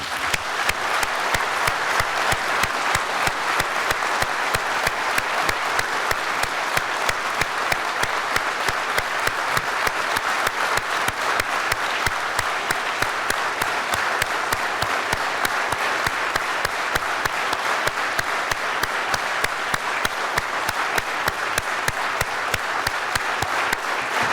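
Audience applause for Ukrainian talents at an event, a long, steady wall of clapping with a regular rhythmic pulse, loud and continuous throughout.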